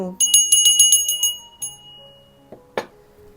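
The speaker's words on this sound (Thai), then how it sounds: "กดกระดิ่ง" A small bell rings in a quick run of about seven bright, crisp dings, followed by a few scattered, fainter chimes that trail off, close and clear.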